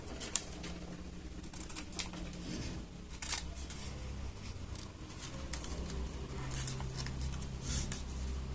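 Scissors snip through paper while a mask for a Project Zorgo elite hacker costume is cut out, giving a series of sharp, close clicks and crisp cuts over steady low room noise.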